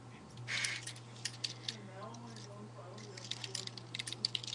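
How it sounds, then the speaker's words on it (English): Light, irregular keyboard typing, faint clicks scattered through a quiet room while people talk over it and a steady low hum runs underneath. "I hear typing"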